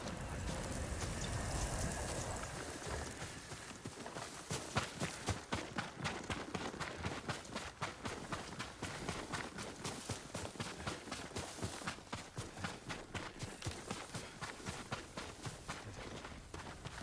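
A horse gallops with quick, steady hoofbeats in Ghost of Tsushima. The pounding rhythm runs continuously for over ten seconds after a brief rush of rain-like noise.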